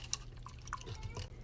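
A watercolor paintbrush swished and dipped in a container of plain water, giving soft close drips and light liquid sloshes over a low background hum.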